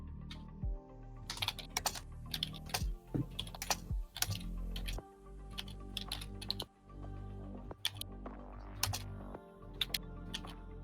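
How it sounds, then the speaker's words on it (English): Fast typing on a computer keyboard clatters in quick, uneven bursts over a low music bed, close and quiet. "I just hear the typing and I think hacker noises."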